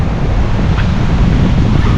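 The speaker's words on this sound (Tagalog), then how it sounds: "Medyo malakas ang hangin." Strong wind rushes steadily across Ilig-Iligan Beach on Boracay, a loud continuous low roar buffeting the microphone, blended with surf, with no speech.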